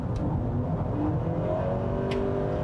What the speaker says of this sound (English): you can hear it kind of creating some kind of fake engine noise